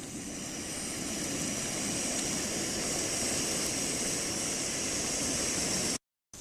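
Primus camping stove burner roaring with its valve opened up, a close, steady, broadband hiss-roar that holds constant for several seconds before a brief dropout, with no voices.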